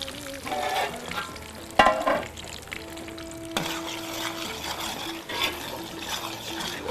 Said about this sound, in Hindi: जब आपने तड़का बनाना है इसका ना, तो इसके ऑयल के जो छींटे हैं उससे ज़रा बचिएगा